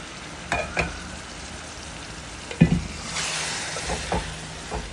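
Tamarind pulp stirred into a simmering korameenu fish curry, a low bubbling sizzle with a few distinct spoon knocks and scrapes against the pot.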